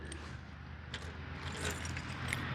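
Truck keys jangle in a hand, a steady soft metallic rattle running throughout at close range, with faint low rumble beneath and no talk.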